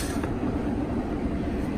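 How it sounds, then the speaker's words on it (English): A heavy BNSF freight train rumbles past nearby, a deep continuous roar with faint metallic rattling, steady and loud throughout. "That's the BNSF train going by."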